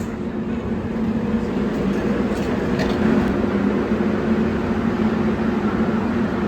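An airport tram at Harry Reid International Airport rumbles along in a steady, loud rolling drone, with no voices heard over the continuous motor and track noise.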